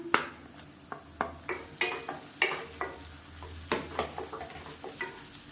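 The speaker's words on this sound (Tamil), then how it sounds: "பூண்டு நல்லா வதங்கிடுச்சு." Crushed garlic sautéing with onions in a hot pan, a steady soft sizzle punctuated by around a dozen sharp scrapes and clinks of a spoon stirring against the pan, close and moderately quiet with no talking.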